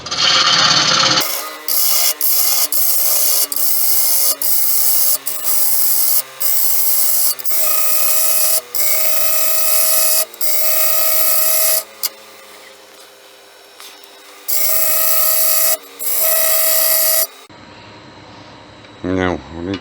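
A wood lathe hollows out a bowl with a steady humming whine, broken by repeated bursts of harsh scraping as the tool cuts in and pulls away, close and loud throughout.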